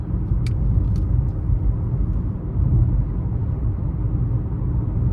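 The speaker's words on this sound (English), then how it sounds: "even on the bigger wheels, road noise is not bad at all" Low, steady road rumble inside a 2023 Nissan Murano SL on larger wheels while driving, a constant muted drone with a couple of faint brief clicks early on and no talking.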